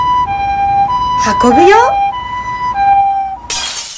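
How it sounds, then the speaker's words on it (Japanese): Japanese ambulance siren wailing in a steady two-tone alternating pattern, loud and close, with a voice speaking over it midway and a brief burst of noise near the end. "救急車。 怪我をした人や病気の人"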